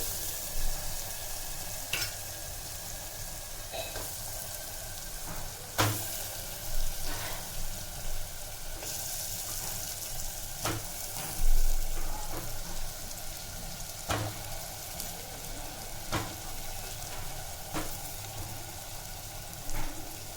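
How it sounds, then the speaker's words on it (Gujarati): Eggplant stirred and frying in oil in a pan for a garlic eggplant dish, giving a steady close sizzle with intermittent scraping stir strokes and a few sharper clicks throughout. "હવે એને ધીમે ધીમે હલાવશું"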